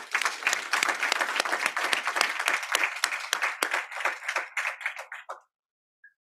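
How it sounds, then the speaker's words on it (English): Audience applause for a professor giving an inaugural address, a dense burst of many hands clapping that continues loudly for about five seconds, then stops abruptly into silence. "give a big applause to the presenter, Professor Masinde"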